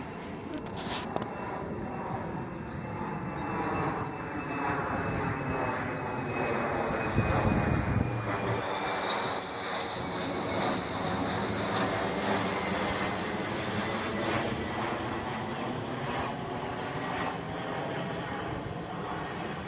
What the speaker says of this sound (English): we caught this commuter jet flying over